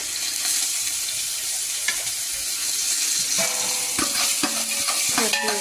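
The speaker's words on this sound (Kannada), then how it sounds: "ಹಸಿಮೆಣಸಿನಕಾಯಿ, ಜಿಂಜರ್ ಗಾರ್ಲಿಕ್ ಪೇಸ್ಟ್ ಇದಿಷ್ಟು ಹಾಕಿ ಹುರ್ಕೋಬೇಕು." Fennel, green chilli, curry leaves and ginger garlic paste sizzle steadily in hot oil, close and continuous, with a spoon stirring and scraping the pan in short clicks toward the end.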